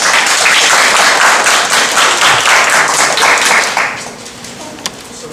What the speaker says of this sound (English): Serena, all this applause is for you